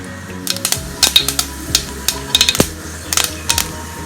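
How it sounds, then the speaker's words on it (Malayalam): Mustard seeds dropped into hot oil while cooking egg theeyal, spitting and popping in rapid irregular crackles over a low sizzle, close and fairly loud, with no voices. "അപ്പൊ എണ്ണ ചൂടായാലും നമുക്കതിലേക്ക് കടുക് ഇട്ട് കൊടുക്കാം."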